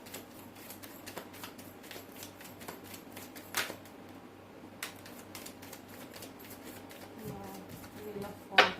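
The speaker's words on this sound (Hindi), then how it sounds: "This is my last shuffle." Tarot cards being shuffled by hand, a rapid papery riffling and flicking that runs steadily under a quiet room tone, with a slightly louder snap near the end and a brief voice at the close.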